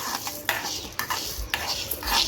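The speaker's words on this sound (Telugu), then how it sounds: "ఫ్లేమ్లో పెట్టి బాగా వేయించుకోవాలి" Sun-dried sorghum grains roast in a pan over a low flame while being stirred, rhythmic metallic scraping and rattling of the spoon against the vessel roughly twice a second, close and with no talk.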